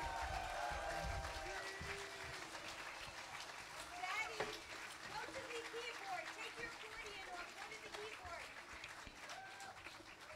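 An audience applauds at a concert, a steady wash of many hands clapping, with a voice speaking over the crowd.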